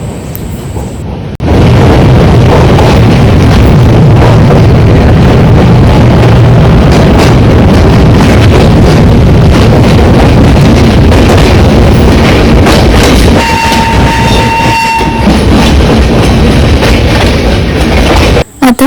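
The Janshatabdi Express 12051, running from Dadar toward Ratnagiri and nearing Panvel station, fills the space with a loud, continuous, close rumble and rattling clickety-clack from inside the coach, a faint tone surfacing near the end.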